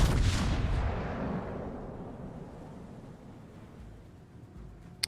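Battleship main guns firing in the World of Warships naval game, a loud booming blast at the start that rolls off into a long fading rumble, with a faint pop near the end.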